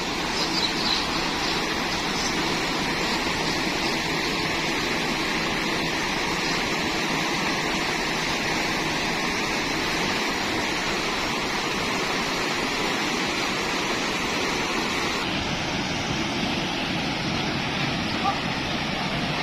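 A steady, loud rush of floodwater after heavy rain fills the scene without pause, a strong current pouring along a street in Islamabad, Pakistan.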